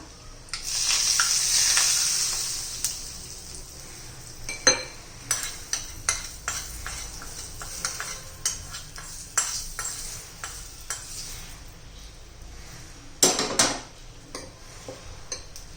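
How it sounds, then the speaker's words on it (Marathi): Hot oil tempering with turmeric and red chili powder poured over sliced onions, a loud sizzle bursting at first and then fading, followed by scattered spoon clinks and stirring scrapes against the pan. "थोडं लाल तिखट घालू आणि आपल्या कांद्यावर ओतून घेऊया हा तडका"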